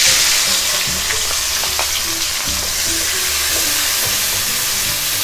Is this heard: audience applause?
no